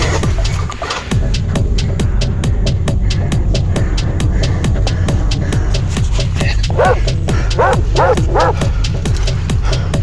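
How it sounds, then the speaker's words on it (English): Dog running through thick bushes on a steep canyon trail, with constant rapid rustling and crunching of brush and a few short yips and whimpers toward the end, close and loud. "That's a brave dog. Look at that dog."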